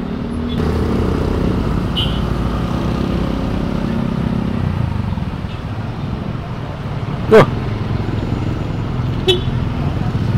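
Busy roadway traffic in a jam outside a Starbucks in Marelan, Medan: a continuous rumble of car and motorcycle engines with a couple of sharp horn toots, heard from a moving motorcycle amid wind noise.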